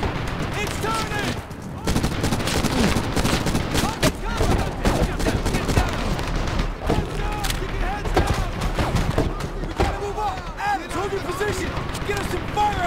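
A SAW machine gun fires almost without pause in Medal of Honor during a firefight against a vehicle, a dense rattling stream of shots under shouted squad voices and other battle noise.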